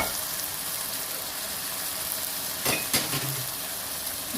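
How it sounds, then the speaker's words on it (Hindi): Lightly browned vegetables stirred into masala in a pan for a vegetable korma, a continuous close frying sizzle with a couple of sharp utensil clinks and scrapes partway through, no voices. "सब्जियां जो हमने हल्की हल्की ब्राउन की थी वो डाल देंगे इकट्ठे इसमें। तो मसाले के साथ मिक्स करेंगे।"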